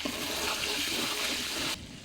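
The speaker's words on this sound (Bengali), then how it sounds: "এই তো এখন আমি গরম পানি দিয়ে দিতেছি।" Hot water poured into a pot of braising beef tail meat, a steady rushing, splashing pour that stops abruptly near the end, close and moderately quiet.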